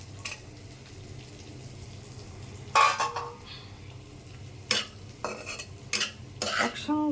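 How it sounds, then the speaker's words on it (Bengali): Potatoes and yardlong beans fry in oil with chopped onion in a pan, a soft steady sizzle broken by sharp scraping stirs of a spoon against the pan. "একসঙ্গে আলু আর বরবটিটা ভেজে নিতে হবে।"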